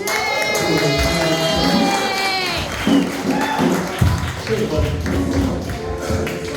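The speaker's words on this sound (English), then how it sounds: "I want y'all to give a hefty round of applause" An audience at a stand-up comedy contest in a brewery claps and cheers for a comedian coming on stage, a dense steady wash of applause with loud shouts mixed in, sustained for several seconds at close range.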